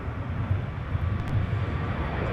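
An airliner taking off from runway 30 left at Minneapolis–St. Paul airport, heard as a steady low engine roar and rumble with no talk.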